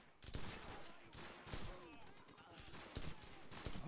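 Gunfire in the Call of Duty 4: Modern Warfare video game: faint but continuous volleys of shots with sharp bursts recurring throughout.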